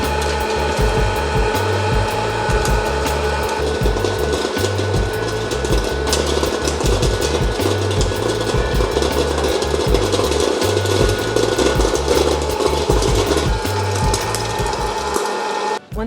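A home air popcorn popper runs loud and steady, its motor and fan droning continuously with small rattling ticks from kernels tumbling inside, and no voices.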